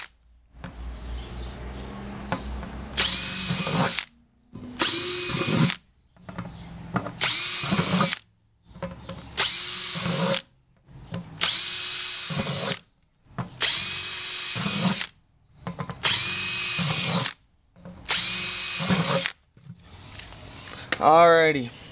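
A power drill driving a bit into a plastic 5-gallon bucket for a garden soaker-hose setup, whining in about seven separate bursts of a second or two each, loud and close, with brief quiet gaps between them.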